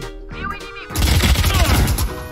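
Rapid bursts of gunfire from the tactical shooter game Valorant crackle loudly in a dense fusillade after a brief stretch of quieter game sounds, close and punchy.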